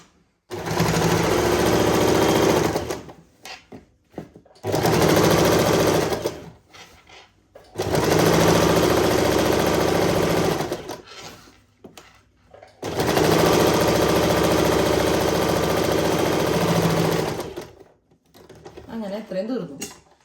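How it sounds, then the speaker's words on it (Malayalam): A sewing machine stitches the side seam of a churidar in four long, loud whirring runs, each lasting a few seconds, separated by brief pauses where a person talks. "ഇനി ഇത് കുറച്ചും കൂടി നീക്കിയതിന് ശേഷം ഇപ്പുറത്തേക്കൂടെ കൂടി അടിക്കാം"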